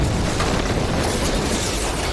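A nuclear bomb explosion sound effect roars as a loud, dense, continuous rumbling blast with no pauses across its short length.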